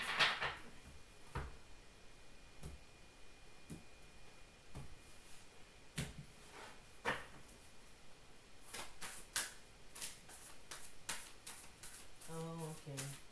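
Soft papery riffles and snaps of a deck being shuffled, a quick burst of card flicks near the end, close and fairly quiet with faint background hiss.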